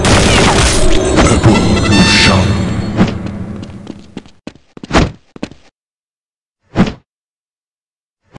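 Counter-Strike Zombie Escape gameplay: a loud burst of noise from a grenade explosion decays over about four seconds, then a few separate thuds and short bangs follow with silence between.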